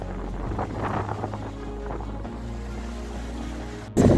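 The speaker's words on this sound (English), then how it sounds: "Quite a windy day today." Steady roaring wind buffets the microphone throughout on a bright, windy day at Lake Como, Italy, with a sudden louder gust burst near the end.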